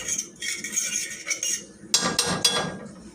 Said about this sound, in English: want to go ahead and add some of these yellow onions in this pan so we can start sauteing these as well.